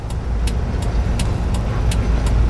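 A manual car engine hums steadily at close range with road rumble during half-clutch driving practice, while faint rhythmic ticks repeat in the background.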